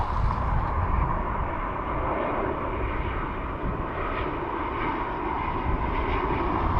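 British Airways airliner arriving at Dublin Airport from London, a loud continuous jet engine rumble and roar sustained across the whole stretch, close and without talk.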